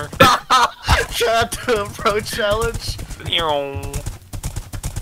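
Horse hooves in Minecraft make light, quick clopping taps that run under constant lively talk from a player, mostly masked by the voice.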